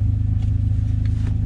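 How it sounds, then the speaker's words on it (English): Rowdy exhaust note from a BMW M52 engine fitted with individual throttle bodies, a deep steady burbling drone with a pulsing low rhythm throughout, close and loud with no talking. "Rowdy exhaust."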